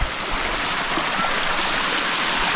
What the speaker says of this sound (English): definitely worth a visit, guys. Sticky waterfall.